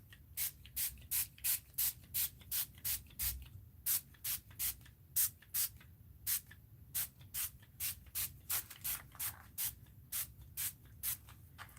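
Wild honey Distress Stain sprayed in short, regular spritzes, about two dozen quick hissing bursts close by with brief gaps between them, no voices.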